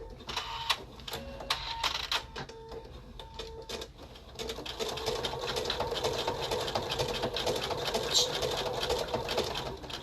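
A sewing machine stitches slowly through thick layers of fabric, an uneven run of mechanical clatter that starts and stops in the first seconds, then settles into a steady, close hum. Faint voices sound in the background.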